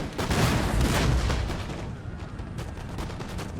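Cannon artillery fire from the Empire: Total War strategy game: a loud booming volley that rolls on for about a second, then trails off into scattered, fainter crackling shots.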